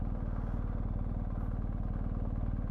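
BMW GS motorcycle slowing off road, its engine idling with a fast, even low throb heard close and steady, with faint mechanical clatter on top.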